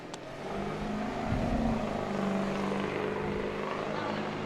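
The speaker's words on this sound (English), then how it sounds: "Big old truck over there. You can hear that." A big truck passes near a baseball field as a low, sustained engine rumble that swells and holds at a distance, heard as a steady drone against the outdoor background.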